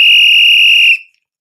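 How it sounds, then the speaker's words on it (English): A single loud, piercing whistle blast holds steady for about a second, then cuts off abruptly into silence, heard close and alone. "Big whistle on the play."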